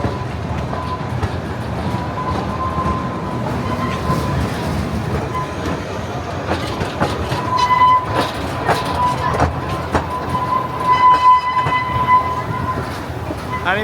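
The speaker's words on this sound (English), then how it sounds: "the train's going around faster today" A roller coaster train rumbles past with a steady rattle and clatter, wheels squealing faintly, while voices chatter in the background at Blackpool Pleasure Beach at night.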